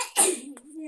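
A single sharp sneeze bursts out at close range, followed by a brief soft vocal sound.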